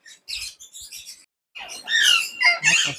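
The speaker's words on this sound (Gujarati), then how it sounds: "એ પાડી પોપટ બેઠા છે અને બીજા આપણા દેશી પોપટ પણ છે." Parrots at the Rajkot zoo give a short series of harsh, nearby squawks, with a few scattered calls followed by a louder cluster of raspy screeches.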